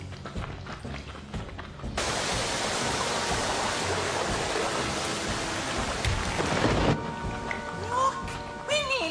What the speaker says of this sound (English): There's a hurricane heading for Pontypandy